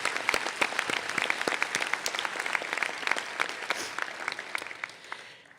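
A graduation audience applauds, dense sharp claps building into a steady round that tapers off at the end.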